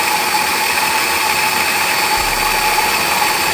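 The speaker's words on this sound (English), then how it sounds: "the mic is right above this drill. So it might be very, very loud" A power drill runs continuously right beside the microphone, a loud, steady high-pitched whine with a constant mechanical drone, unbroken for the whole stretch and with no talking.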